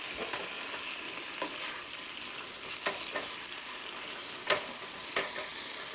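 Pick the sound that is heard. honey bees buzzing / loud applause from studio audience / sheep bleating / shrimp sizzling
shrimp sizzling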